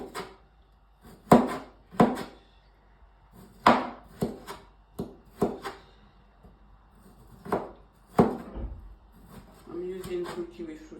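Kiwi fruits being peeled and cut with a knife on a board for a simple recipe: a series of sharp, close, separate knocks and taps with pauses between them, plus softer rubbing and scraping near the end.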